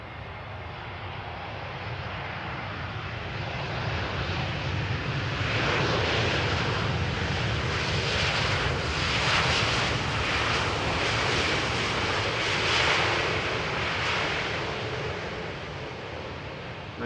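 A jet airliner arriving on Polderbaan runway 18R at Schiphol Airport, a loud broadband roar that swells and holds steady for several seconds as the aircraft passes, with no talking.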